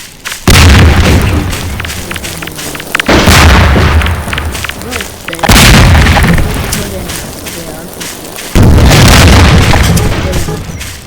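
Grenade explosions in the video game Garry's Mod, four loud booming blasts spaced a few seconds apart, each with a rumbling tail, with no talking.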